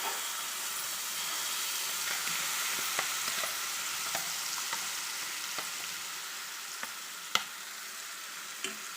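Ground coconut mixture cooks in ghee in a pan, giving a steady close sizzle with light scraping and stirring clicks scattered throughout, no voices.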